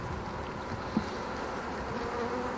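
Honeybees in an orientation flight outside the hive in April make a steady, diffuse buzzing hum, with wind or broadband background noise behind it and one brief louder buzz as a bee passes close by.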